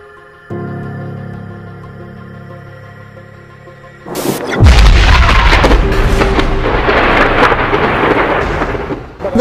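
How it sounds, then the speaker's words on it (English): Deep, loud explosive booms roll through a residential neighborhood on the northeast side of Flint, a sudden heavy blast followed by long rumbling that shakes the air for several seconds. "Loud explosions rocked neighborhoods on the northeast side of Flint this afternoon"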